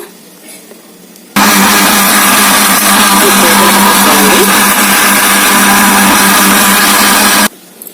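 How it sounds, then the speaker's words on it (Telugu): A kitchen mixer grinder blends coconut chutney with tamarind pulp, its loud, steady motor whir starting abruptly, holding for about six seconds, then cutting off. "ఇప్పుడు మిక్సీ అయితే పెట్టేసుకుందామండి"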